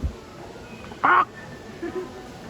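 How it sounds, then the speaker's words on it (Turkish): A parrot inside a cave-like passage lets out a single loud, harsh squawk partway through, with a fainter call near the end and quiet room noise around it. "Burada da bir tane papağan var."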